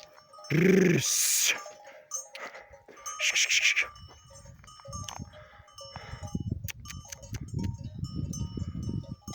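Several sheep bleat loudly close by, overlapping cries at the start, then a busy shuffle of a flock being herded home in the evening, with occasional clanking bells behind.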